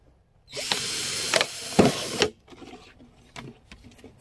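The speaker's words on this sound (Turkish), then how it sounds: "Şimdi üstten ikinci boğumdan bir delik deliyoruz." Holes being drilled into a 10-litre plastic bottle: a loud, close whining drill burst of about two seconds, followed by quieter scraping and clicking handling sounds.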